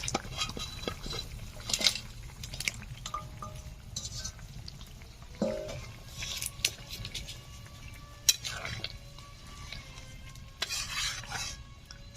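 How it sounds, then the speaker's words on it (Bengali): Fried potatoes and a katla fish head go into a pot of boiling broth, with scattered splashes, utensil clinks and faint bubbling in a quiet kitchen. "এখন আমি দিয়ে দিচ্ছি ভেজে রাখা আলু আর কাতলা মাছের মাথা।"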